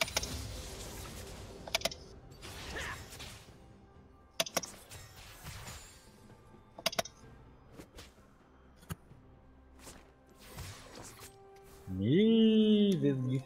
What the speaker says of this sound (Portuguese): Dá, dá pra ouvir os cliques.